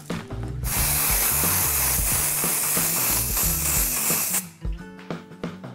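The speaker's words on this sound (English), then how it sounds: "we're going to finish it with a touch of silver shimmer spray." A steady hissing spray of edible silver shimmer aerosol onto a Christmas cake runs for several seconds, then cuts off, followed by a few light clicks and taps.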